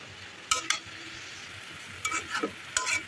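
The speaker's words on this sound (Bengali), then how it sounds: "একটু ভাজা ভাজা মতন হবে, তো এই জন্য একটু নাড়াচাড়া করার উপরেই থাকতে হবে।" Egg frying in a pan and stirred with a utensil, a low sizzle running throughout, broken by a few sharp scraping strokes, close and clear with no voices.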